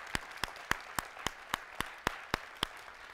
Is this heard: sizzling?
no